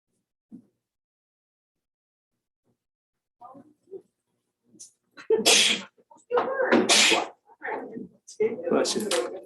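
A single sharp sneeze bursts out amid chatter before a county commissioners meeting, loud and close, with people talking around it in the room.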